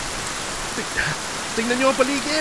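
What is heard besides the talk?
heavy rain in a dubbed movie scene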